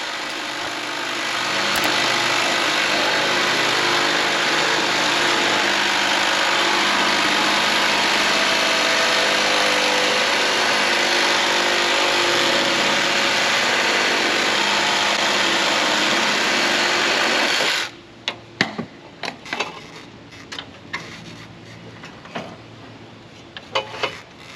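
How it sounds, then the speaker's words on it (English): A power tool cuts PVC conduit during an electrical service upgrade, a loud continuous close whine and buzz that runs steadily for most of the clip, then stops abruptly and leaves scattered clicks and handling knocks. "So I get to cut the piece of PVC exactly how I like it."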